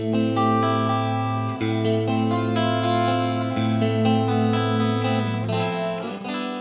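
Clean guitar tone through a Blackstar Amped on its clean channel, recorded from a mic'd cabinet: sustained, chorus-tinged chords ring continuously and close with steady loudness and slight changes, no talking.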